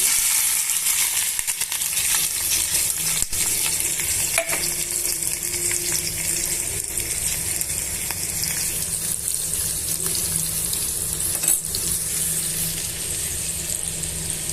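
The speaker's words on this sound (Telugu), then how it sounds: "ఆయిల్ కాగిన తర్వాత సన్నగా తరిగిన ఉల్లిపాయ ముక్కలు పచ్చిమిరపకాయ ముక్కలు వేసుకోవాలి" Finely chopped onions and green chillies frying in hot oil make a loud, continuous crackling sizzle with scattered sharp ticks of a utensil against the pan, heard alone without voices.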